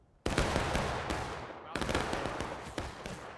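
Musket volleys from a line of infantry in the Civil War game War of Rights, two loud crashing bursts of massed gunfire, each a ragged cluster of shots rolling into echoing reverberation.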